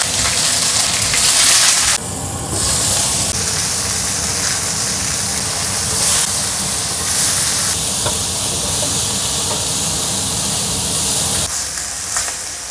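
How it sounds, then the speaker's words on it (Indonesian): Fish frying in a pan in a home kitchen: a loud, continuous hiss and sizzle of hot oil that surges and eases in intensity, heard alone without talk. "Ini yang penting aku goreng ya, biar nggak bau amis ya"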